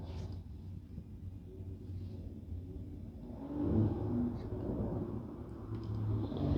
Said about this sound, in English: Loud cars behind us,